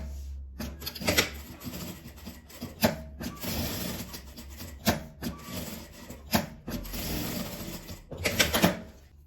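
Sewing machine stitching fabric scraps into a phone holder, running in several short rattling bursts separated by brief pauses, close and fairly loud.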